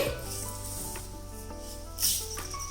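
A soft, continuous sizzle of dried red chillies frying in a tablespoon of hot oil, with a low steady hum beneath and a brief louder hiss near the end.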